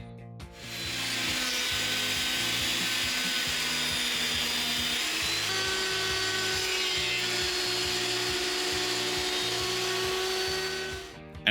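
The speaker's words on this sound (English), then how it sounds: "I'll just take baby bites through the planer to try and remove as little as possible." Wood planer taking light, shallow passes on a scrap board, a steady loud whirring drone with a constant high hiss that holds for about ten seconds, its pitch shifting slightly partway through, with no talking.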